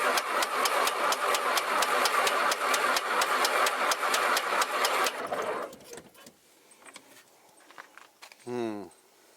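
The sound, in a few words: 1949 V-Tail Bonanza aircraft engine cranking, trying to start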